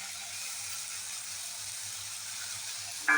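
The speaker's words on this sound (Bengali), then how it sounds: "একবার পোস্তটা একটু নেড়ে নিলে এও একটু ভাজা ভাজা ভাব হবে" Poppy seed paste fries in a pan with a steady, moderate sizzle and hiss that stays even throughout. A louder burst of sizzling comes in at the very end.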